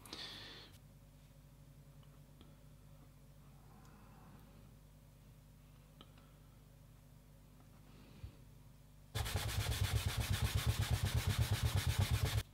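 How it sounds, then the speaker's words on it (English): Japanese burnishing gum is rubbed along the thin leather edge of a bag. Faint handling comes first, then fast, rhythmic back-and-forth rubbing strokes turn loud and close for the last few seconds. "I will just put a little bit of gum on, Japanese burnishing gum, and we'll just give it a good rub"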